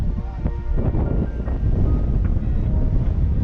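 Strong wind at sea buffets the microphone in a steady, loud low roar throughout, with gusts surging but never letting up.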